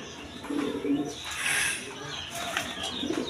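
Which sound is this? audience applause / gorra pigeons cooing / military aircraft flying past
gorra pigeons cooing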